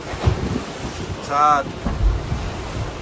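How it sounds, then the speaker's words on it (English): Wind and choppy, confused sea slapping around a Miko HH52 catamaran under sail between Subic Bay and Palawan, a steady rough wash with gusty buffeting, a brief voice speaking over it. "Very, very confused sea."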